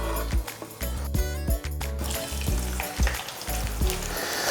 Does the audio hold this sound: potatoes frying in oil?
yes